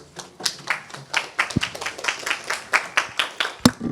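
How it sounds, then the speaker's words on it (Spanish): A small audience at a press conference on general elections claps for a speaker, with distinct, fairly close individual hand claps in a quick, uneven rhythm over a few seconds. "Un aplauso para él, por favor."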